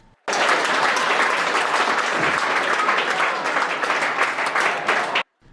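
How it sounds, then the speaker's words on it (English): An audience breaks into loud, sustained applause after a professional's five-rail kick shot at a billiards match during a pool hall grand opening, starting suddenly and stopping abruptly about five seconds later. "he makes it and gets a big applause from the audience"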